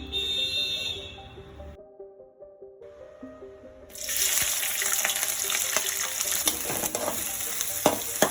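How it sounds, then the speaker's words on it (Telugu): Onions fry in oil for mutton biryani: after a few seconds of steady electronic tones, a loud sizzling hiss bursts in and crackles on with scattered pops and stirring sounds. "ఇప్పుడు మనము ఆయిల్ వేసుకుని ఆనియన్స్ని బాగా ఫ్రై చేసుకోవాలి."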